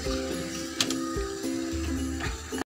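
Small kitchen mixer grinder blending idli chutney, a steady mechanical whir with brief stops and restarts over a few seconds, close and moderately loud.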